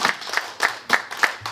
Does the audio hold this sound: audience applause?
yes